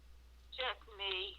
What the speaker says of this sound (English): I heard the bell ring again.